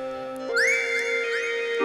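A Korg Electribe EMX-1 groovebox synthesizer gives bright whistling tones that glide upward over a sustained electronic chord, one rising sweep after another, with no voices.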